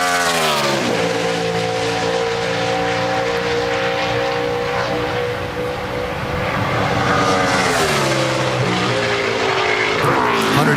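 Tony Stewart's NASCAR Sprint Cup stock car on a 2012 qualifying lap at Watkins Glen roars loud and close, its engine note climbing steadily, dipping briefly, then rising again.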